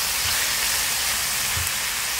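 Tomatoes and onions sautéing in a pan for dal khichdi, a steady close sizzling hiss with soft low stirring bumps, no voices.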